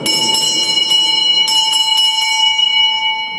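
Church bells ring steadily for the Easter Vigil with bright, sustained harmonic tones and repeated strikes, loud and continuous with no voices.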